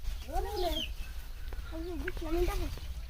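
Chickens on a farm giving several short clucks, close and moderately loud, amid background noise and people talking.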